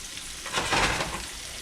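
Onions fry in rendered bacon fat in a hot pan, a steady close crackling sizzle that swells briefly mid-way as the pieces are stirred through the grease.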